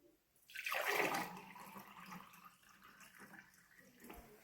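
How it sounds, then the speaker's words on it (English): Cold water poured out in a noisy, gushing rush that swells quickly and then settles into a steadier splashing stream, with no voices over it. "Cold water."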